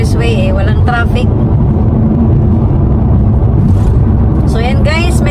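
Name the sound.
car driving on an expressway in Japan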